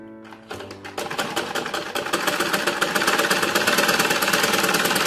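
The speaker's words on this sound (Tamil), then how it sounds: "இப்போ இது நம்ம ராங் சைடு தச்சிட்டு இருக்கோம்." A sewing machine stitching the hem of a lungi, starting with a few slow stitches and then running into a fast, steady mechanical rattle, close and loud, with no talking.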